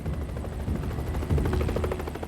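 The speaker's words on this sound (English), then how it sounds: "The chopper has exceeded its flying hours and has to return to base." A search helicopter flying over a forest at night, its rotor blades beating in a fast, steady chop, close and fairly loud throughout.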